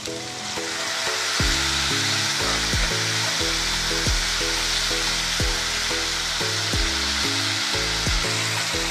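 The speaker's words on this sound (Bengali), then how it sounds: "হলুদ ধোয়া জলটা দিয়ে দিচ্ছি" Turmeric water hits a hot frying pan with a loud, sustained sizzle, a steady hiss running under music, while cooking a Bengali butterfish curry.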